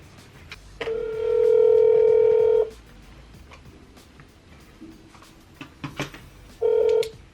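A telephone is dialed by hand for a cold call. A steady tone sounds for about two seconds, then a few scattered clicks follow, and a short tone returns at the end.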